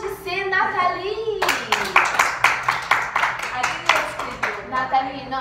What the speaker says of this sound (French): class, applaudissez Nathalie.